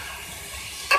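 Chicken with softened tomatoes is stirred in a hot cooking pan, a soft continuous sizzle with a brief scraping clink near the end.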